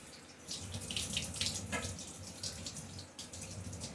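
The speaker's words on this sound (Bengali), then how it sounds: "তুমি ভাত খেয়ে বাড়িতে থালা একা একা এরকম করে ধোও নাকি" Tap water runs steadily into a sink while a plate is washed, a continuous close splashing stream with small shifts as the dish moves under it.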